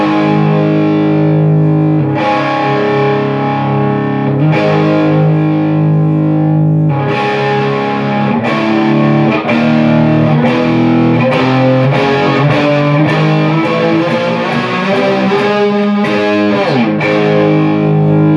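A distorted electric guitar chugs through a driving outro rhythm riff, loud and steady, with repeated chord hits and short fills.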